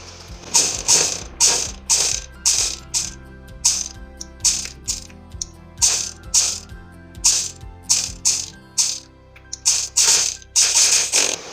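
A sewing machine stitches a folded edge of blouse back-neck fabric in a steady run of quick mechanical bursts, each a short clattering whir with brief pauses between, close and fairly loud with no voices.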